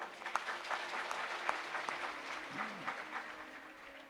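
Audience applauding at a Shrimad Bhagavat Katha religious discourse, steady crowd clapping throughout with a few sharper claps standing out, moderately distant and without speech.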